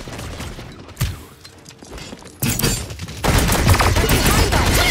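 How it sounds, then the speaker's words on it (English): Enemy gunfire in a Paladins team deathmatch, with scattered shots first and then dense, loud, continuous firing that builds toward the end, mixed with game effects. "They're firing on me."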